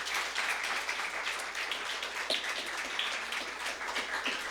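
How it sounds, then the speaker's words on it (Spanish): Steady applause from a church congregation, a dense, even patter of many hands clapping at moderate volume with no voices over it. "Démosle un aplauso a Jesús."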